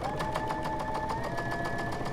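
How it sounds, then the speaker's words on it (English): A home sewing machine stitches a quilt block at a steady, fast rhythmic whir with regular needle clatter, close-up and moderately loud, running continuously without talk. "So I'm just going to go ahead and sew."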